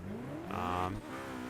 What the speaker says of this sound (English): All right, quarter mile in the Mclaren P1.